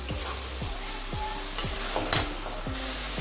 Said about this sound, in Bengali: মশলাটা যাতে লেগে না যায় এই জন্য একটু জল দিয়ে দিলাম।